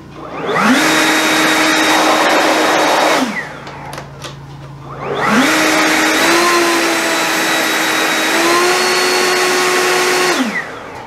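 A Ryobi cordless leaf blower spins up to a loud, steady high-pitched whooshing roar, winds down to a brief lull, then spins up again for a longer run before powering off.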